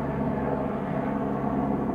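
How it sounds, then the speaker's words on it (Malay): A helicopter flies overhead as a steady, continuous rotor drone that holds at an even loudness throughout, with no voices. "there is chopper up there up there"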